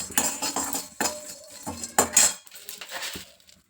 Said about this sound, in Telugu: ఇవన్నీ ఫ్రై చేసుకుందాం నూనె అయిన ఏం లేకుండా షాలో ఫ్రై